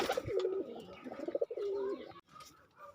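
Kalshira and Naptha pigeons coo in low, rolling phrases, several overlapping calls close by, with a brief pause near the end before softer cooing resumes.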